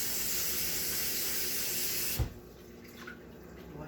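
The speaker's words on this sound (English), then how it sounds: "I'm going to add water" Tap water runs steadily into a bowl of peeled shrimp and salt water, a close hissing stream that cuts off with a thump halfway through, followed by faint clinks.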